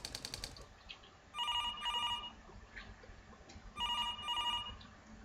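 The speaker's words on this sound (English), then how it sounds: "I should pick up the phone." In the business role-playing game Suits: A Business RPG, a telephone rings electronically in two double-trill bursts, quiet over a faint background with no talking.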